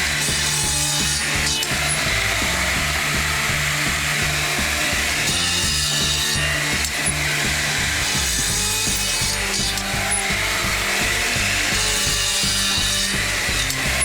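Saw cuts wood pieces for cabinet doors with a loud, steady grinding roar and rhythmic rasping pulses throughout, no talk.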